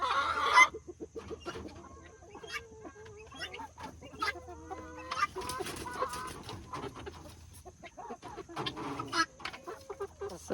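A backyard flock of chickens, including reds, buffs, an Australorp and Bielefelders, clucks and murmurs nearby in scattered, overlapping calls, with a few louder squawks and quieter stretches between them.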